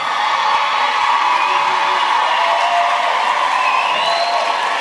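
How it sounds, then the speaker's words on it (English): A crowd at a high school graduation ceremony cheers steadily for the graduates, a loud, continuous wash of whoops and shouts with no breaks. "Stand to your feet and give them a cheer."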